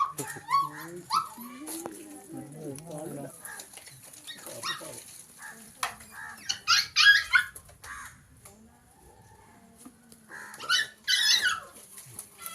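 Small puppies trapped in a deep well whimper and yip in short, high bursts, echoing faintly, with people talking nearby in between.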